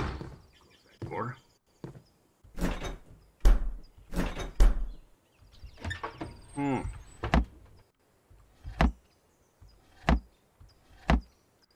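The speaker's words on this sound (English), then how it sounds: "close that door." A door in a survival video game swinging shut, heard as several close, solid thunks and clacks spaced through the stretch, some with a brief creak, mixed with other handling knocks and a voice talking in between.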